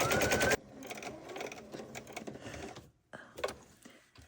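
A sewing machine stitches fabric on a diagonal for a pin cushion project, giving a rapid mechanical rattle in short runs with brief pauses between bursts, close and clear.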